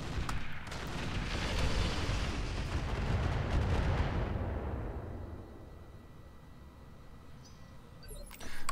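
Catapult fire in the video game Roguepoint, a heavy rumbling boom that swells for several seconds and then fades into a quieter tail, ending with a short burst.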